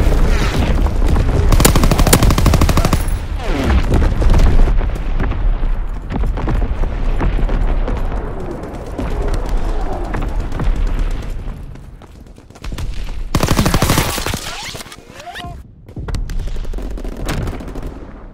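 Artillery barrage in Call of Duty WWII multiplayer team deathmatch: a dense, loud stretch of booming explosions and rapid gunfire, with heavy blasts rolling over one another and brief lulls before fresh bursts.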